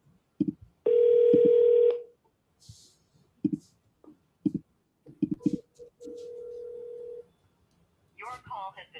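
Push-button telephone tones on a seller call: a long steady beep and a later sustained tone, separated by short clicky keypresses, with a voice heard briefly.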